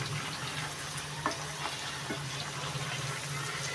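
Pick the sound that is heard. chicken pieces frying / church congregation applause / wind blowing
chicken pieces frying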